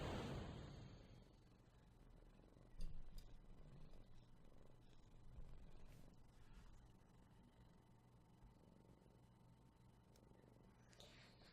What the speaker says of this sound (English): He's purred his face off